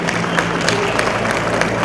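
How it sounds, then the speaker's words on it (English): An audience at a Waterfront Cebu community Christmas tree lighting event applauds with dense, steady clapping throughout, heard close and fairly loud. "So a big round of applause to Waterfront"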